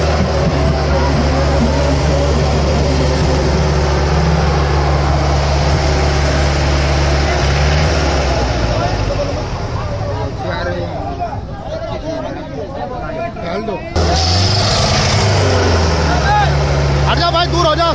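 Sonalika DI 750 tractor engine running under load as it drags a double harrow, a loud, steady low drone that dips briefly near the end before returning, with people talking and calling out over it.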